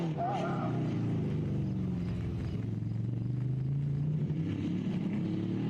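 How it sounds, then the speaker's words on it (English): A race car engine drones and revs across the infield of a racing course with the throttle opened wide, its low steady tone rising and falling, a commentator speaking over it throughout. "Big handful of throttle as he crosses through the infield"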